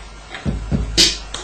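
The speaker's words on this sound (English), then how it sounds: "the snare usually plays on 2 and 4, which sounds like this." Sharp electronic snare hits from a Roland TR-808 drum machine land on an offbeat-ish pattern over a low kick pulse, a crisp bright crack standing out near the end.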